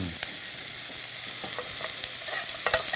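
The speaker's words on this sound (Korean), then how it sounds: "그래서 이제 어차피 볶는 김에 이렇게 같이 볶아주세요." Onions and vegetables stir-fry in a pan as filling for a sweet potato and kabocha squash cup pizza, with a steady close sizzle and scattered light clicks from the spatula.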